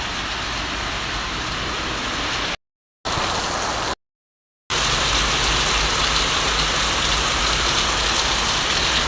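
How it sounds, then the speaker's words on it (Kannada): Steady rain pours down outdoors as an even, hissing roar. Two brief drop-outs cut the sound before it resumes at full strength. "ಇಲ್ಲಿ ನೋಡಿ, ಮಳೆಯನ್ನು ಅಬ್ಸರ್ವ್ ಮಾಡೋದು ಕುತ್ಕೊಂಡು"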